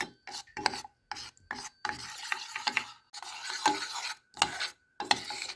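Repeated scraping strokes of a spoon stirring a thick cocoa mixture in a pot, breaking up lumps, in short bursts separated by brief pauses, close and fairly loud.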